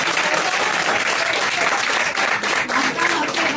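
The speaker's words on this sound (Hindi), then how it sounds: "आफ्ताब के लिए जोरदार तालियां।" An audience at an Independence Day celebration gives loud, sustained applause for a performer, dense continuous clapping from a close crowd throughout.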